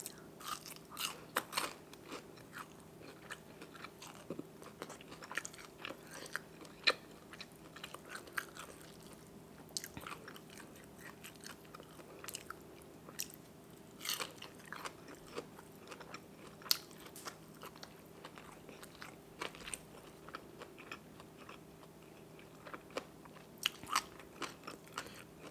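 Crunchy bites and chewing of fried pork belly cooked with fish sauce, eaten close up as a steady run of crisp crackles and mouth noises with no talking.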